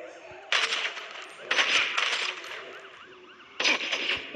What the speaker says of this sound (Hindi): इसके हेडशॉट मारूंगा मैं।